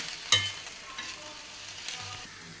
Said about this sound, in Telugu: ఒక స్పూను మిరప్పొడి కొద్దిగా పసుపు పొడి వేసి బాగా వేయించుకోవాలి